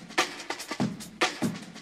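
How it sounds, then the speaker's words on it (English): Hi-hats and drum hits from Ableton's stock 707 Rack With You drum rack, a crisp electronic pattern of repeated bright ticks and thuds in a ravey techno groove, loud and close with no voices. "For the sound, I used this stock Ableton drum rack called 707 Rack With You."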